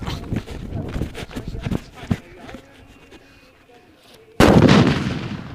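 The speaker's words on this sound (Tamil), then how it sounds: "அடுத்த ஸ்டேஜ் அரை கிலோ பேப்பர் கிராக்கருங்க" A sudden loud blast from a half-kilo paper firecracker bursts out near the end and rumbles on, following a stretch of people talking and moving about.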